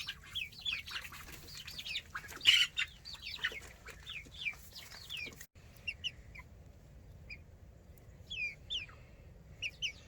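A black rooster clucks and chirps in quick bursts, fairly distant over a low steady outdoor hum, with a brief flutter partway through and no talking.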